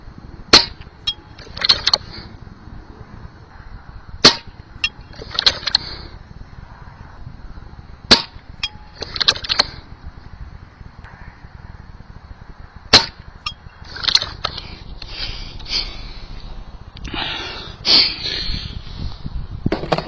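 Airgun pellets striking a steel target plate at 200 yards: a series of sharp, distant metallic pings spaced a second or more apart, each ringing briefly, with quiet outdoor background between hits.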